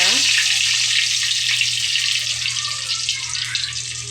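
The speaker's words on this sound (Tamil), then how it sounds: "எண்ணெயிலே பூண்டு போட்டு நீங்கள் வதக்குனீங்கன்னா" Whole peeled garlic cloves frying in hot oil for a fish curry, a loud, dense, continuous sizzle close by that fades slightly toward the end.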